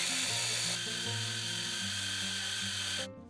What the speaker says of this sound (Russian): В чашу измельчителя кладем вареную куриную печень